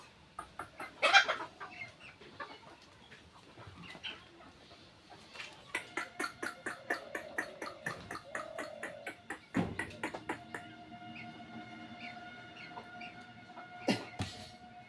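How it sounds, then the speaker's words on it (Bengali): Local desi chickens cluck and call repeatedly in a rural hen house, the bursts close and fairly loud, coming in an uneven rhythm with a few sharper squawks and no talking. "দেখতে পাচ্ছেন, এই যে একদম দেশি মুরগি সব"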